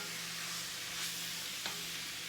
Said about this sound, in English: Then I'm gonna stir everything into it.